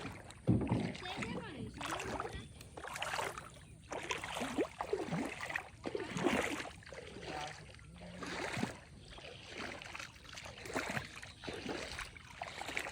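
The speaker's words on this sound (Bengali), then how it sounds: "এখন আমরা সেই নৌকা নিয়ে এই বিলের মধ্যে ঘুরবো" A wooden rowboat moving through a flooded wetland at Magura, rhythmic paddle strokes splashing and gurgling every second or two, with water lapping against the hull and voices talking intermittently.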